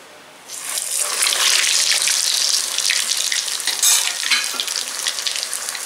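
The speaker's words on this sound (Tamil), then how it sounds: "எண்ணெய் நல்லா சூடாயிடுச்சு. இப்போ வந்து மெதுவாக நிதானமாக பார்த்து வந்து நம்ம சேர்த்துக்கணும்." Scotch egg balls, Indian style, sizzle steadily in hot oil after they go into the pan: a loud, dense, continuous crackle with no voices.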